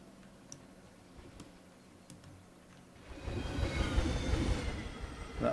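A train in the Planet Zoo video game rolls along its track, quiet ticking at first, then a louder rumble with wheel squeal building from about three seconds and holding to the end.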